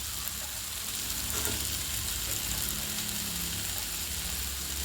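Sliced zucchini, carrot and capsicum sautéing in a little oil with onion and tomato for an egg kuruma, a steady, dense sizzle filling the pan without pause and with no voices.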